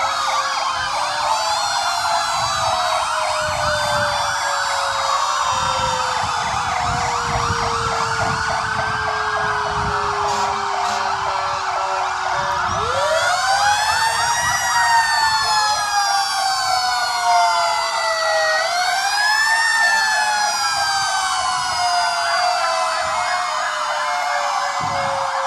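Fire truck sirens wail at a Christmas parade, several overlapping rising and falling tones sounding loud and close over the steady rumble of passing vehicles, continuing for the whole stretch.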